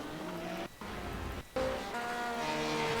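A GTE race car in a sim racing game at Okayama drones with a high, tonal engine note that drops out briefly twice as it shifts, then climbs again, loud and close.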